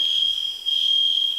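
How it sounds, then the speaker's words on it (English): A smoke alarm, set off by construction dust, sounds indoors as a loud, steady, piercing high-pitched tone that barely falters. "That's a fire alarm."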